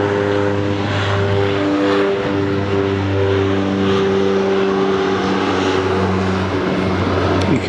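Spirit Airlines airliner holding short on a taxiway at Fort Lauderdale airport, its engines giving a steady, loud droning hum with a constant low tone throughout, heard from nearby with no talking.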